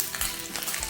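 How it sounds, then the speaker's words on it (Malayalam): Mustard seeds and urad dal fry in hot oil for a tempering, giving a continuous bright sizzle with light crackling, close and alone without speech. "അതിന് മുമ്പ് കടുക് വറുക്കുന്ന എങ്ങനെ നോക്കാം."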